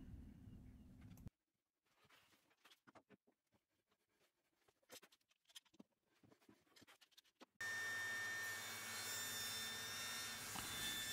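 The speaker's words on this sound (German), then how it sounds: "Nun säge ich mir die benötigte Länge und die benötigte Breite zurecht." A handsaw cuts cherry and ash boards to length and width in quick, uneven scraping strokes of moderate loudness. Louder steady noise sits before and after the strokes.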